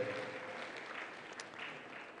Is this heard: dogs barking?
no